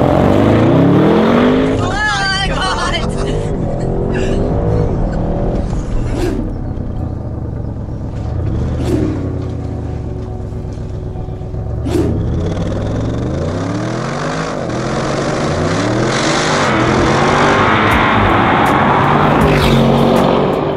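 An Audi RS6 Vorsprung engine rumbles loudly and builds revs as the car drives and accelerates, with rising and falling engine tones throughout and a voice speaking over it.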